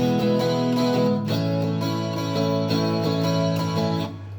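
Guitar strummed in a down-down-up-down pattern with a chorus-like, effected tone, steady chord strokes ringing continuously for several bars and then fading, with no talking.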